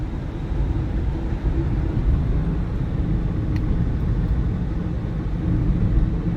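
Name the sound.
2002 Toyota Prius driving at about 40 mph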